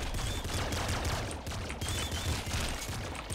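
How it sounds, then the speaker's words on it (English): A laser pistol fires in the video game Nuclear Throne as a dense, rapid run of shots and impacts, loud and continuous across the clip over busy game noise, with no speech. "The laser pistol doesn't seem like it's the best for these."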